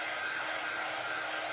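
A hair dryer blows steadily at close range, a continuous even whoosh with a faint high whine, used to heat-dry ink on a crafting mat while making a tote bag.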